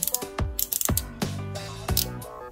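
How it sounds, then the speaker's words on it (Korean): Ratchet joint in the shoulder armor of a Metal Cardbot S Blue Cop S toy robot clicking up close, several quick crisp plastic ratcheting bursts with short pauses between. "어깨 외장도 라쳇으로 움직이고요"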